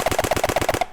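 A full-auto HPA dart blaster fires a rapid burst of about seven evenly spaced shots in under a second, sharp and close, the air supply running low, ending abruptly in quiet.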